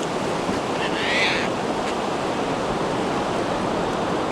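Ocean waves rolling onto the shore at Long Beach, a steady broadband wash of surf with wind noise buffeting the microphone and no distinct breaks.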